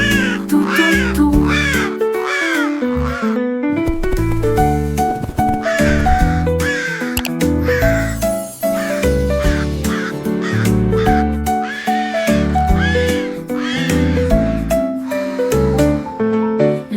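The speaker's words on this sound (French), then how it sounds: "Un chant de corbeaux tout autour." Crows caw repeatedly in a French nursery rhyme for children. Loud, raspy calls come in quick bursts over bouncy music throughout the song.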